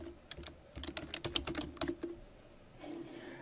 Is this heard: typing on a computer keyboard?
yes